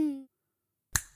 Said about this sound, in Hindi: चुटकी बजाते ही आ जाएगा और 1 सेकंड में चुटकी बजाते ही पकड़ लेगा चोर को